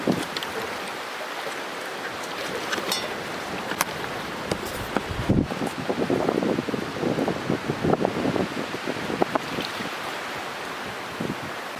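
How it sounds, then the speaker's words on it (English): Strong gusts buffet the microphone beside a lake at a canoe campsite, with waves surging and slapping against the shore, a continuous rough roar swelling in uneven bursts and no talking. "Hopefully the wind dies down."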